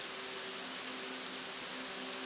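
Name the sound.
rain falling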